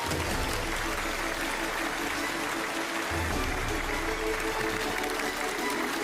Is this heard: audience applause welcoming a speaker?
yes